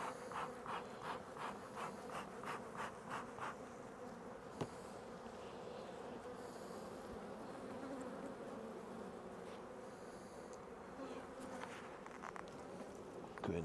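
Honeybees buzz steadily around an opened hive being prepped for splitting in April, a continuous insect drone with brief knocks and handling noises mixed in.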